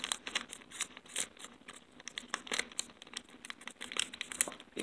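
A foil trading card booster pack from the Cardfight Vanguard Burning Valor set being worked open by hand, giving close, sharp crinkling and crackling bursts in an irregular run of quick rustles, with no talk.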